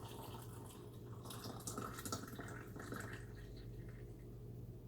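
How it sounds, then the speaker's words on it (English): French press coffee poured into an insulated mug, a faint, steady trickle of liquid with small splashy fluctuations running throughout, close but quiet, with no talking. "And then you pour it right into your cup."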